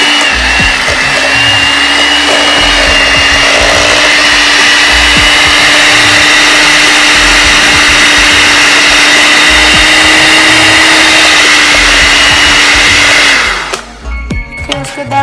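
An electric hand mixer whirs loudly and steadily as it beats cinnamon roll icing made with cream cheese, vanilla and powdered sugar, running alone for about thirteen seconds before cutting off.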